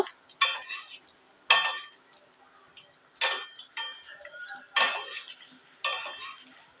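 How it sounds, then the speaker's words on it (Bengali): A slotted spoon scrapes and clinks against a kadai while maida snacks fry in oil, five sharp metallic strokes spaced about a second apart over a faint sizzle, close and clear with no talking. "এগুলোকে আমি একটা ঝাঁঝরির সাহায্যে ভালো করে এরকম করে নেড়ে দেব।"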